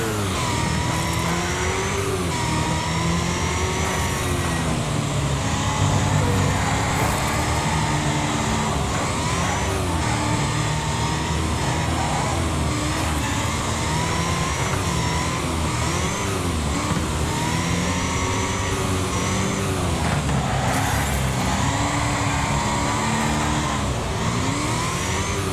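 An engine in a Wreckfest race car drones and revs continuously, pitch climbing and dropping with repeated throttle surges, loud and steady with no talk over it.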